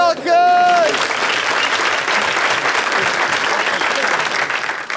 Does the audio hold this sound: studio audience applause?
yes